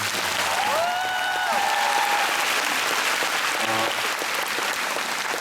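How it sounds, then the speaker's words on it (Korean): Audience applause at the closing-night curtain call of the musical Jesus Christ Superstar in Seoul, steady and dense throughout, with a brief voice or tone rising over it near the start. "여러분들 큰 박수 한번 주세요"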